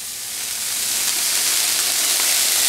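Cheese melting on a smashburger atop a Steelmade flat-top griddle, with a loud steady hiss of sizzling and steam that swells slightly and carries on alone.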